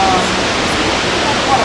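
Snoqualmie Falls roars as a loud, steady broadband rush of falling water, close and continuous throughout.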